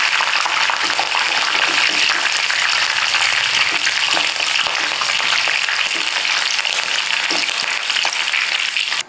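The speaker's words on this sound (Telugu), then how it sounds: "కరివేపాకు, పచ్చిమిర్చి ముక్కలు మనం అందులో డీప్ ఫ్రై చేసుకోవాలండి" Curry leaves and green chilli pieces deep frying in hot oil for chicken pakoda, a loud, steady crackling sizzle that runs without a break for about nine seconds and ends abruptly.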